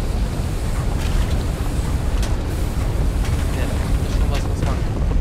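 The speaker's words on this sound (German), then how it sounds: "Ah, Wasser abgelassen." Water draining away in the puzzle platformer Trine 2, a steady, loud rushing wash of water like surf that holds evenly throughout, with light clatter on top.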